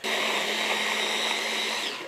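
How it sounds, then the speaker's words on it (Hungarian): An electric food chopper whirs steadily for about two seconds as it quickly chops a red onion, a loud close motor whine that winds down at the end. "Vágjunk össze gyorsan, pár másodperc alatt egy fej vörös hagymát."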